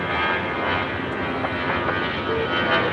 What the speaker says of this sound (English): A319, 23 years of age, already rolling down.